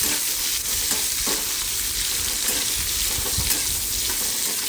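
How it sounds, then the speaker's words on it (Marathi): Dried Bombay duck fish frying in oil over a low flame, a steady close sizzle with faint stirring scrapes and no talking. "बारीक गॅसवरतीच आपल्याला हे बोंबील तेलामध्ये थोडेसे भाजून घ्यायचे आहे"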